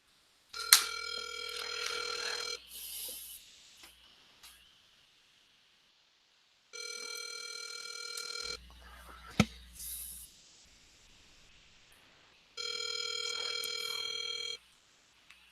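A telephone rings on an outgoing cold call for real estate wholesaling, a clear electronic ring tone repeating in three long bursts separated by silent gaps.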